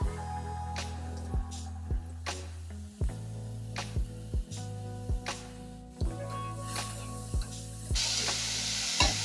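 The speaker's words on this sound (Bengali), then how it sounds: "দিয়ে ডালটা ভালো করে ভেজে নেব" Soaked masoor lentils fry in oil in a pan for kachori, a steady close sizzle broken by repeated scraping taps of stirring and a brighter hiss toward the end, with no talking.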